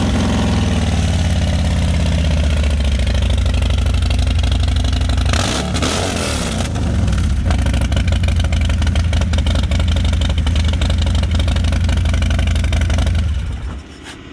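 A 2020 Harley-Davidson Low Rider S with a 131-cubic-inch Stage 4 engine rumbles loudly at a deep, throaty idle, with a short blip of revs partway through before settling back and fading at the end.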